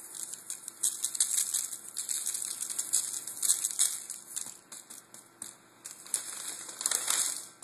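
A piece of paper rustles and crinkles near the grill during steak prep, a busy run of crisp crackling bursts with short pauses between them and no talk.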